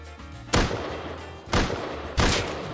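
Gunfire in the survival video game Rust: three sharp distant-sounding shots spaced about a second apart over a low background hum.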